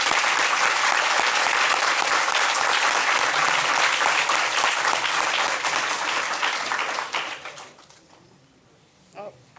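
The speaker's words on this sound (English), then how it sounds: "we'll give everyone a round of applause." An audience at a moot court competition awards ceremony applauds the competing university teams with loud, sustained clapping for about seven seconds, then fades out, leaving a quieter room with brief voices.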